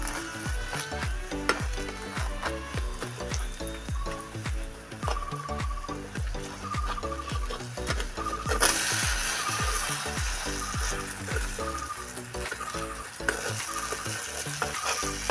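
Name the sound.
vegetable snack frying in oil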